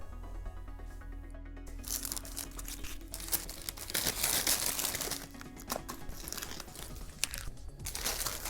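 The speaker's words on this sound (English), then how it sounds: "It's finally time to find out how much paint comes off with this tape." Masking tape being peeled off the painted surface of a homemade Boba Fett jet pack, a series of close crackling, tearing rips with bursts and pauses of crinkling, quiet overall and alone.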